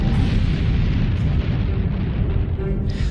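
A sound effect of an explosion on the sun: a dense, continuous deep rumbling roar with crackling texture, loud and sustained throughout, with no voices.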